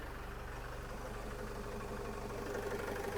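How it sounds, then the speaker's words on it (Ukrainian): A 2012 Renault Trafic van's 2.0-litre engine idles with a steady, low rumble evenly throughout, fairly quiet and unchanging, with no voices over it. "От така робота мотора."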